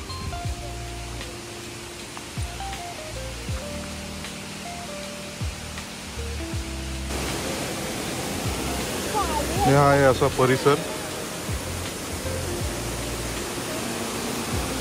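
Rushing high water beside Chandika temple after heavy May rain, a steady broadband roar throughout while someone speaks over it, with a voice briefly near the middle.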